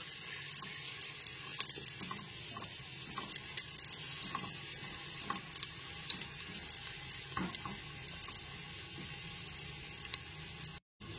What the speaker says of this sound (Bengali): গ্যাসের ফ্লেমটা মিডিয়ামে রেখে আলুটা হালকা করে ভেজে নেব।